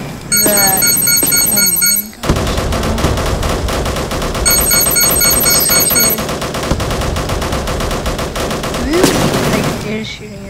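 Rapid bursts of automatic gunfire from a Roblox Military Tycoon battle, loud and dense, mixed with game alarm-like tones and short breaks between volleys.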